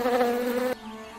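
A buzzing insect drones steadily and fairly loudly for about a second before cutting off abruptly, leaving only a faint hum.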